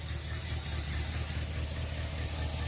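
A 1979 Chevy C20 truck engine, parked since 2005, idles steadily on 50-to-1 fuel with a low, rough rumble and faint rattling, running on its own without any voices.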